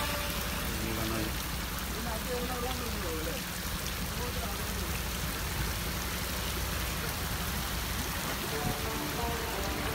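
Steady rain pouring down during a shikara boat ride through the Kuttanad backwaters, a dense even hiss with a voice murmuring underneath.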